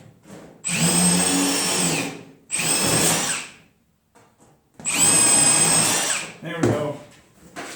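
A power drill backs screws out of a metal meat smoker in three long whining bursts separated by short pauses, loud and close, with a brief clunk near the end.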